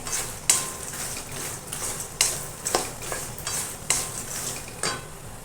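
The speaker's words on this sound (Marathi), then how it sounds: "आता लगेच हे मखाने घालून घेऊ याच्यामध्ये आणि चांगले असे मिक्स करायचे" Makhana being stirred with peanuts and coconut in a pan, a steady scraping and rustling with regular sharp clinks of the spoon against the metal roughly every half second, close and moderately loud, no voices.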